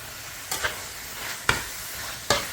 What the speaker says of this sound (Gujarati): અને હવે હું આ મીટ બધું એમાં નાખી દઈશ.